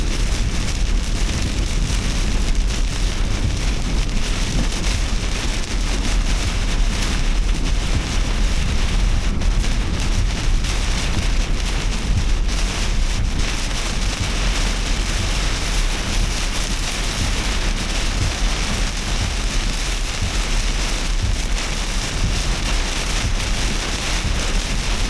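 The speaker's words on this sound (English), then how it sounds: "Getting windy in here." Steady, loud wind roaring and buffeting the microphone during severe weather in Indiana, with a rain-like hiss mixed in and no voices.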